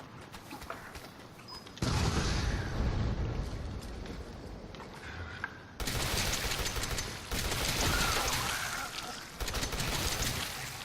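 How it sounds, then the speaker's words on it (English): Rapid machine-gun fire in the Resident Evil 7 finale, loud sustained bursts broken by brief pauses, with heavy booming impacts underneath. "I'm honestly just gonna fire as fast as I can and just aim for the head"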